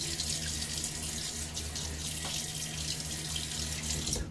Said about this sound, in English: now let's splash a little water on my face